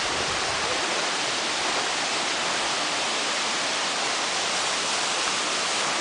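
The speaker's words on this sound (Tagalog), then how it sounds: "See the water, the splash, it's so good." A waterfall in Quezon Province splashes and pours, a loud, unbroken hiss and rumble of falling water filling the whole scene.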